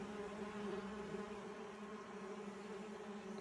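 Osmia mason bees buzz and fly around wooden nesting boards, a continuous faint droning hum of several insects close by, with no talking.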